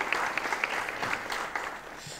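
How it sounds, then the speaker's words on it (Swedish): Applause from an audience welcoming a municipal team from Övertorneå on stage, a steady wash of clapping at moderate level that stays even and fairly close throughout, with no voices over it. "Yes, ge dem en applåd"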